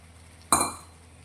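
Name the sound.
boiled pigeon peas (tuvar) added to tomato gravy in pan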